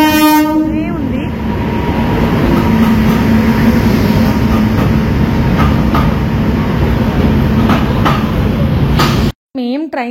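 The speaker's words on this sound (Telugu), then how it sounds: "ఫైనల్లీ ట్రైన్ అయితే వచ్చేసింది అనమాట." A passenger train pulls into a station in the rain on a trip from Kakinada to Shirdi. A horn sounds at the start, then a loud, continuous rumble and rattle of the carriages runs steadily until the end.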